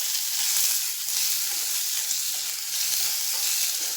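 Potatoes fry in a pan with mustard seeds and salt, giving a steady, close, even sizzle with faint stirring and no talk.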